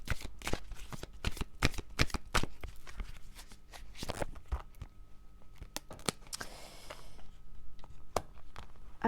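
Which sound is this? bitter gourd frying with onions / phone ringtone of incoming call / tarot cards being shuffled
tarot cards being shuffled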